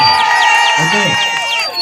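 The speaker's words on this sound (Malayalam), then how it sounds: "എല്ലാവർക്കും നമ്മുടെ പ്രിയപ്പെട്ട ഹണി റോസിന് നല്ലൊരു കയ്യടി എല്ലാവരും ചേർന്ന്" A crowd cheers and whoops at a showroom inauguration in Wayanad, loud and sustained throughout with overlapping shouts and a few claps, as a voice carries over the noise.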